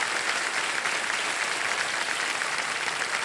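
Steady applause from a TV game show studio audience on Kaun Banega Crorepati, dense clapping sustained evenly for a few seconds without talk.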